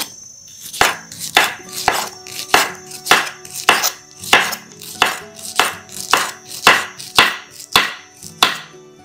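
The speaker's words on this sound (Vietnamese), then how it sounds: "Khóm này thì mình sẽ gọt ra nha" A knife works through a pineapple on a cutting board in about fourteen sharp, evenly spaced strokes, each a crisp close thud with a short scrape, heard alone in a quiet kitchen.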